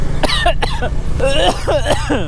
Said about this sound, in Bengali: আমারও কাশি হচ্ছে শুষ্ক কাশি